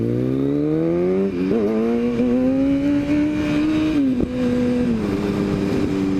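Streetfighter motorcycle engine revving hard as the bike accelerates through a wheelie, a loud close steady roar climbing in pitch with brief dips at gear changes, no talking.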